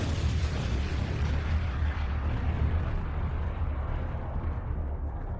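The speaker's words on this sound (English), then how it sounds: "This one deserves an explosion." A deep, rumbling explosion effect plays as a celebration in a quiz session, a loud sustained low boom that fills the whole stretch without fading, with no voices over it.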